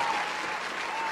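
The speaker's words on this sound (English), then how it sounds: "Let me get a round of applause, man, for freedom." Applause from a small group in a podcast studio, a steady, moderate wash of clapping that holds evenly throughout.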